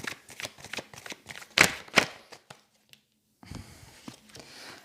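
A deck of cards being cut and shuffled up close, a quick series of riffling snaps and flutters, a brief silence, then softer shuffling resumes.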